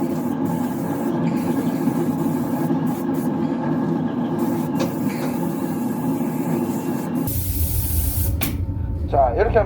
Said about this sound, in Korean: 자, 이렇게 하면 이제 스프레이는 이제 끝났습니다. 중도 스프레이.